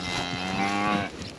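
A cow in a ranch corral gives one long, loud, close moo that trails off toward the end, with no talking.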